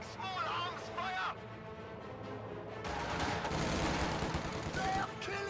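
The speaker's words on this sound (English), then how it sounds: "Taking small arms fire." Small arms gunfire crackles through a video game battle, with dense bursts of shots rising into a sustained rattle while a voice talks over the fighting.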